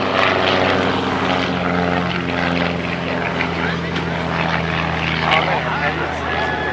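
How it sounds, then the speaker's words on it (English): A Pitts S-2A propeller biplane flies loops, rolls and dives at the 2006 St. Augustine airshow, its engine droning and surging over an announcer who talks throughout. "aerobatics such as you see him flying right now as a single ship, loops and rolls and dives"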